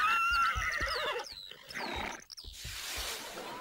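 Horses neigh in a short, shrill whinny with rising and falling tones, followed by a softer breathy snort, moderately close and fairly quiet.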